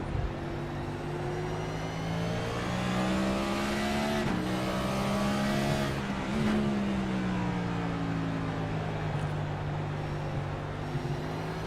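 On-board engine of a race car at Martinsville speedway in a racing game drones steadily with gear-shift dips and rises, two sharp shifts breaking the constant loud roar, with no talking.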